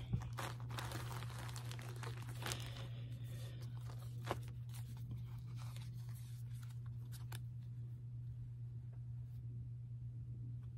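Plastic yarn packaging crinkles and rustles up close as scissors snip through it in short bursts, then quieter handling over a low steady hum.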